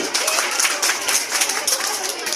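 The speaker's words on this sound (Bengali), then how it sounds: "সবাই আনন্দ সবাইকে করতালি দিয়ে দেন সবাই" An audience claps together at a results announcement, a short, dense burst of applause with a fluttering, uneven rhythm that holds steady throughout.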